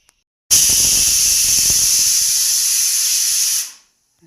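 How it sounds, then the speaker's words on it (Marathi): A home pressure cooker cooking rice lets out one loud, continuous steam whistle, a sharp hiss that starts abruptly, holds steady for about three seconds, then tapers off. No voices. "फायनली कुकरच्या शिट्या कंप्लीट आणि भात शिजला."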